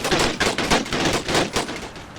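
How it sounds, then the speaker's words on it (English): Gatling gun fire in a cavalry-versus-Plains-Indians battle game, a loud, dense stream of rapid shots with rhythmic bursts roughly every quarter second, close and continuous throughout. "Running straight into the Gatling gun is certainly not doing well for them."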